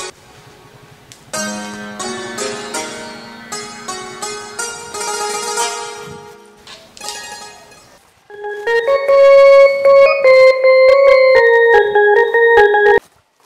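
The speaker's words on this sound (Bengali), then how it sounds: "একটা ফোন দিয়া দেখি" A melodic phone ringtone plays loudly, a tune of repeated tonal notes, then a second brighter musical phrase rings on.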